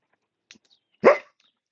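A single close, sharp dog bark rings out after a faint click, otherwise quiet.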